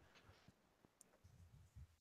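A single short electronic beep sounds at the very end of a voicemail playback, loud and clean after near silence.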